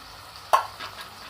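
A sharp stir of a spoon through capsicum frying in Indian masala, one distinct scrape followed by a faint steady sizzle and a couple of softer stirs.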